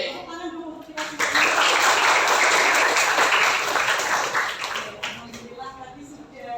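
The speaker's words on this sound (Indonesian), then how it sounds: "Tepuk tangan dulu untuk kita semua." An audience at an academic supervision coaching session bursts into loud, sustained applause for about four seconds, rising sharply and then tapering off, with talk before and after it.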